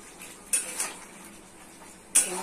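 A utensil stirs potato, chickpeas and tomato in a cooking pan, giving a few scattered metallic scrapes and clinks, with two sharper knocks standing out over a low background.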